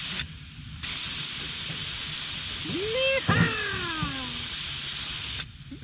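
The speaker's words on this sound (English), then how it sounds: "There's a lot of steam in there." Steam hisses loudly and steadily inside a hot tent, a broad sustained hiss that swells and holds for several seconds before cutting off, with a brief vocal exclamation partway through.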